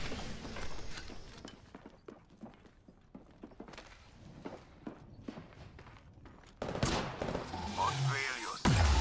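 Gunfire in the video game Apex Legends comes as scattered sharp cracks and bursts among footsteps, fairly quiet at first. Near the end a louder burst of shots and effects takes over.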